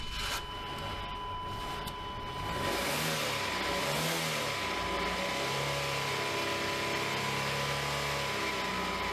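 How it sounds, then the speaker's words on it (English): An old car's engine cranks and briefly catches, running roughly and barely staying alive, a steady nearby mechanical drone with uneven surges and no voices. "I can't believe it's that dead and it's cranking."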